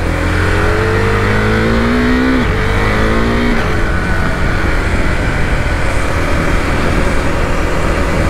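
A 2020 Husqvarna Vitpilen 401 motorcycle engine drones loud and steady while riding, its pitch climbing through a gear and then settling into a constant rough roar.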